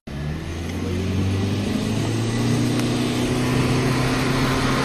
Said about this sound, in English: I want to show you what it looks like on a slalom course inside one of these cars.